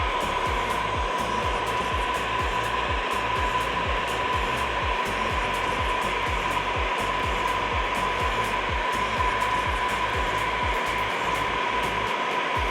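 A heat gun post-heating vinyl wrap deep in a van body recess gives a steady, close blowing roar with a thin constant whine and soft rhythmic low thumps underneath, with no talking.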